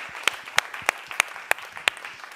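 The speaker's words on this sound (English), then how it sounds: "So give a good clap to the experienced experts here." A conference session audience applauds with a series of sharp, evenly spaced claps, fairly close and loud, with no talking over them.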